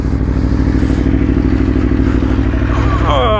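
Aprilia Tuono V4 1100 motorcycle idling close by with a steady, throbbing engine drone and some clatter, then a short rising rev near the end as the bike sets off.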